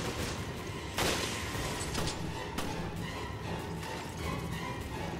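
Gunfire in the video game Resident Evil Revelations, several shots cracking out at an irregular pace over a dense, busy game soundscape, with one louder burst near the start.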